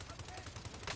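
Rapid automatic gunfire from a Warzone game match sounds as a fast rhythmic burst of shots, loud and dense through the short moment.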